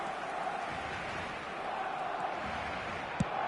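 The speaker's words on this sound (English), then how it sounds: "The crowd reaction tells you just how close that was." A stadium crowd in the eFootball 26 football game gives off a distant, steady murmur of cheering and noise, fairly faint and unbroken, with one brief thud near the end.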